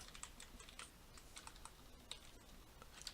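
Quiet, rapid keyboard typing with soft irregular clicks and a few sharper keystrokes, steady throughout with no voices.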